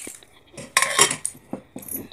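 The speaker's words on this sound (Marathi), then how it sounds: "कुकरला झाकण लावून" A few sharp metallic clanks and rattles as a pressure cooker lid is handled and closed, with quiet pauses between the knocks.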